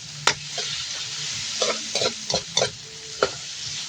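Onion and tomato being sautéed in a pan for a Filipino pork trotter and mung bean dish, with a steady soft sizzle broken by several sharp scraping stirs of a spatula against the pan.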